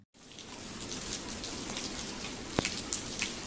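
Rain falls steadily at Kurama-dera temple, a dense even hiss with a few louder drips standing out near the end.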